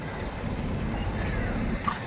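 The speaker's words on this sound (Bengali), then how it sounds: "একটা সেই রকম হাওয়া আসছে সেই রকম মনোরম হাওয়া" Wind blows steadily across the microphone with a low rushing roar and faint gusts, no clear talk.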